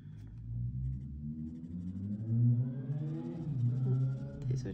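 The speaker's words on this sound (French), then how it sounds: "Désolée pour le bruit, c'est une moto." A motorcycle passes outside, its muffled engine heard indoors as a low rumble that rises in pitch and swells, fairly faint and with no talking.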